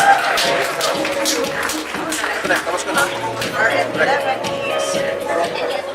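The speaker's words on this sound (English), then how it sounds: "Let's give her a big round of applause." A conference audience at an entrepreneurship summit applauds as a speaker is introduced, with sustained crowd clapping and murmur holding steady for several seconds at moderate loudness.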